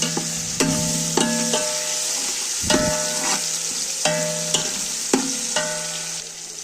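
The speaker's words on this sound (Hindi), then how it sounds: "अब लहसुन अदरक डालूंगी मैं।" Garlic and ginger fry in hot mustard oil with browned onions, a steady bright sizzle broken by repeated metallic clinks of a spoon stirring against the pan, close and without talk.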